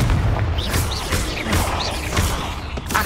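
Confringo fire blast spell cast in Hogwarts Legacy: a series of booming, crashing bursts with whooshing tails, several impacts spaced across a few seconds, loud and close.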